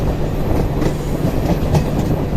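On board the 22959 Vadodara–Jamnagar Intercity Superfast Express near Ahmedabad yard, a loud, continuous rolling roar with faint clickety-clack runs through the whole stretch, with no voices.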